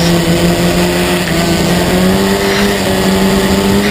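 Historic Formula Ford race cars, one a 1971 car, howl through a corner complex: a loud, sustained engine drone with steady pitch that rises slightly as the cars run together, with no voices.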